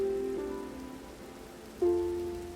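Steady rain falling in Minecraft, with tonal game tones rising and fading above the rain's hiss and one sudden louder swell near the end; no one speaks.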